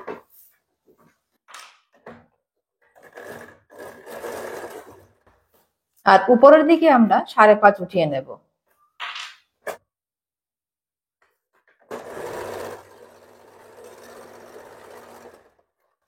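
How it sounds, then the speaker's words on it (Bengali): A sewing machine stitches tucks on a princess-cut blouse in short bursts, with one longer whirring run in the middle, between stretches of someone speaking Bengali in a quiet room. "টাক্সের জন্য যেটা রেখেছিলাম সেটা আমি সেলাই করে নিচ্ছি"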